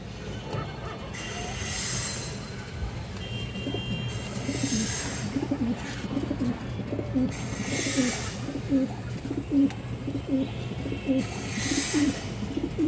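Repeated soft coos from a silver male pigeon in a steady rhythm over background noise, with bursts of hissy noise and occasional faint speech.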